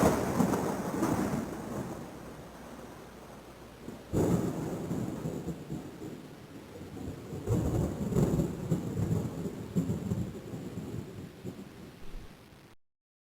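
Thunder from a Sega CD encyclopedia sound effect: a continuous low rumbling storm with rain hiss, swelling into louder cracks and rolls near the start and middle, then fading out at the end.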